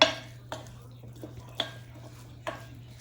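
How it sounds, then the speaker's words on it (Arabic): Quinoa salad ingredients being mixed together in a bowl, with a few distinct spoon scrapes and taps at irregular intervals over a low steady hum, close and fairly quiet. "هسه راح امزج المكونات كل زين سوية"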